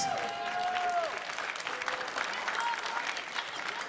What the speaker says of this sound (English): So everyone, give them a big round of applause.